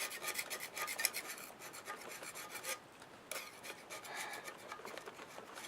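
Steady rasping scrape of a hand tool clearing carbon deposits from a 1988 Jeep XJ cylinder head, close and continuous in repeated strokes with a brief pause midway.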